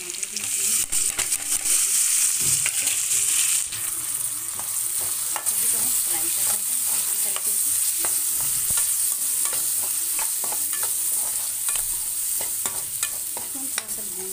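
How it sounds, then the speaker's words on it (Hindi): Onions and tomatoes sauté in a pan for a Rajasthani dal bati churma, a bright continuous sizzle overlaid by repeated scraping and tapping strokes of a stirring utensil throughout. "थोड़ा सा भून लेते हैं प्याज को"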